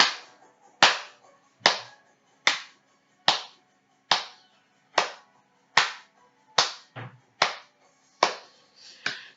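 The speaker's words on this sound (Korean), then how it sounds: "박수!" A congregation at a children's church service claps in unison, sharp single claps at a steady slow beat, about one per second, crisp and close with short decays and quiet gaps between them.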